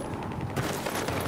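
Machine gun fire rattles through a video game battle in a dense, loud stretch of rapid overlapping shots that sharpens after the first half-second, with no voices over it.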